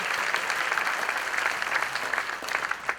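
Steady, dense applause from an audience at a morning community gathering, a continuous wash of many hands clapping at close range with no voices standing out.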